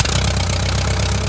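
Rebuilt engine running on its first test, a steady, loud idling drone with a low rhythmic pulse, close and continuous with no talking.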